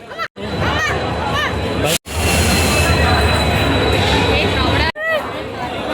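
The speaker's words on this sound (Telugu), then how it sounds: "సో ట్రైన్ వచ్చేసింది," The Chennai Express train rumbles loudly into a crowded platform with a sustained roar and faint wheel squeal, crowd chatter and a voice heard before and after.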